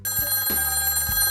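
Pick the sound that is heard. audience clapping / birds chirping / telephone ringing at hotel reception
telephone ringing at hotel reception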